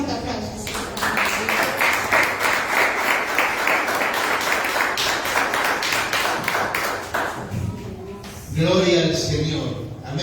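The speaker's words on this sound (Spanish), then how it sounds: "Dale un fuerte aplauso, Señor." A church congregation breaks into loud, sustained applause that swells for several seconds and then fades, followed by a preacher's voice.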